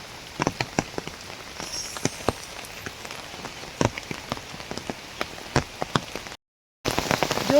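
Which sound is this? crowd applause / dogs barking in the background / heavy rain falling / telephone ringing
heavy rain falling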